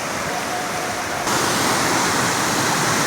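Stream water at Basistha Ganga rushes in a loud, dense, unbroken roar that swells slightly partway through, with no voices over it.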